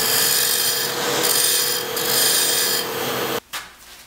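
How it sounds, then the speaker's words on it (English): A skew chisel scraping and shearing spinning wood on a lathe while turning a toy racer, a loud continuous rasping hiss that swells and fades, then cuts off abruptly near the end. "Clean this up with my skew chisel."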